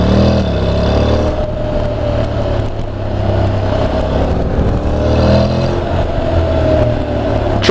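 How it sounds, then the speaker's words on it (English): A Honda NC750X DCT motorcycle pulls away at half throttle from traffic, its engine droning and rising in pitch through automatic gear changes, heard close under heavy wind rush. "I'm going to go sort of half throttle here, get away from the traffic."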